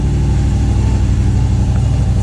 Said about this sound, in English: So I'm going to let it idle for 5 minutes.